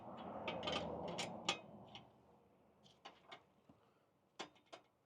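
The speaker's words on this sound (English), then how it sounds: "take your number 10 wrench, just come to those jam nuts and just tighten them up a little bit" Number 10 wrench tightening jam nuts while fitting saddle bags to an Indian Chief motorcycle, a close cluster of small metallic clicks and taps followed by scattered sharp ticks, fairly quiet.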